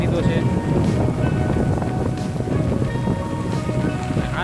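Heavy rain with gusting wind batters a farm plot in a village, a dense, steady roar of broadband noise that stays loud and unbroken throughout, with no clear voices.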